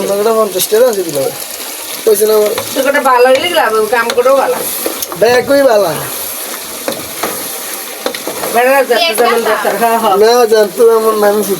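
Chopped onions fry in oil in a pan for pulao, a steady sizzle with scraping and stirring heard beneath someone talking over it almost the whole time.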